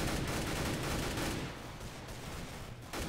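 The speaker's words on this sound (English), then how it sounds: "Boom, shotgun." Shotgun fire in the game Counter-Strike: Global Offensive, dense loud bursts of gunfire that fill the opening seconds and then continue in a sustained roar with scattered blasts.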